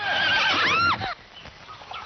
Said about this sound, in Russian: Что же это за лошадь?